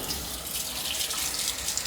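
A kitchen tap runs steadily while food is washed under it, a continuous close hiss and splash of water with no talking over it.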